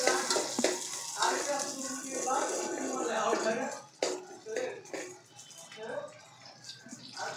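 Browned onion and chili sizzling in a pan for a chicken curry, a steady frying hiss broken by scraping stirs and clinks, with someone talking over it.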